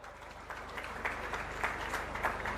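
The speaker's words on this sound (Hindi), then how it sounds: "एक बार जोरदार ताली बजा दो" Steady applause from a crowd at a Chief Minister's festival address fills the whole moment, a dense wash of clapping at even loudness without pause.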